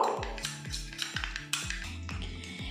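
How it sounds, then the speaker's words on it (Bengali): Gram flour and a little water whisked into a thick batter in a bowl with a spoon, a brisk run of rhythmic metallic clinks and scrapes, close and steady. "এখানে একটা বাটির মধ্যে আমি 1 চামচ পরিমাণে বেসন নিয়েছি আর এর মধ্যে সামান্য জল দিয়ে দেব, দিয়ে একটু মোটা করে এটা গুলে নেব"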